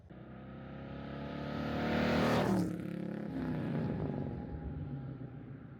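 A 1932 Ford Roadster engine accelerating in the desert, revving up to a loud peak as it passes close by, then dropping in pitch and settling into a steadier drone as it pulls away.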